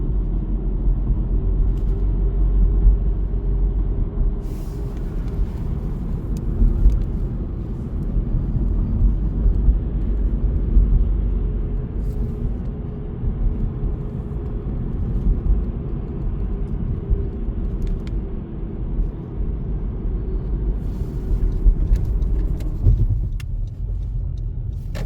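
A car engine idles and rumbles close behind in the evening, a steady low drone that persists throughout with little change and fades slightly near the end.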